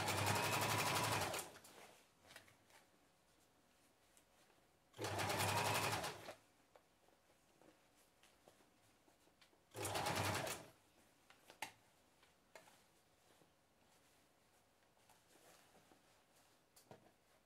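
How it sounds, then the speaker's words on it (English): Sewing machine stitching around a shortened jeans hem toward a thick seam, heard as three loud, steady whirring bursts of about a second each with quiet pauses between them. "Now it's just a matter of sewing around until we get to that thick seam"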